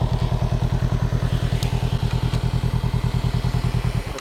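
A Honda Rebel motorcycle engine thumps in a fast, even, pulsing rhythm on a steep off-trail slope, loud and close, with faint clatter over the steady chug.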